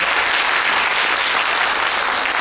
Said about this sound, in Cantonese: 以熱烈嘅掌聲歡迎我哋今晚主講嘉賓